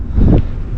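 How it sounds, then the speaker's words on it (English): Wind gusts across the microphone at a neighborhood pond near Kansas City, Missouri, giving one short, close, low buffeting thump over a muffled background. Nobody speaks. "It is so windy out here."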